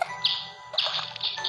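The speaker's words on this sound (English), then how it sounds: "And the bird wants to eat the fish." Bright, high synthetic bird chirps from the video game Boku Boku repeat in quick bursts, with a faint electronic tone underneath and no voices.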